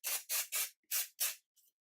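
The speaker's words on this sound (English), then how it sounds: "It's super sticky, so I kind of lift the hair up and spray." Aerosol hairspray sprayed onto lifted hair in five quick, close hissing bursts at a steady rhythm, followed by a faint short puff.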